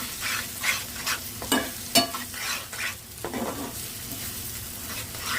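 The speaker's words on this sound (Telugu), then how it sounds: "ఇప్పుడు స్టవ్ హై ఫ్లేమ్లో పెట్టి బాగా మిక్స్ చేయాలి" Egg burji sizzles in a pan on a high flame while being stirred and mixed, a steady frying hiss broken by repeated scraping strokes of a spatula.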